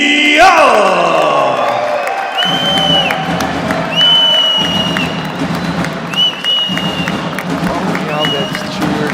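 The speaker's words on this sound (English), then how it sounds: "Gets cheered on by the crowd here in Sao Paulo." A crowd in Sao Paulo cheers and applauds a Brazilian jiu-jitsu fighter at an ACBJJ event, a loud, sustained wash of cheering with a few sharp whoops, while an announcer speaks over it.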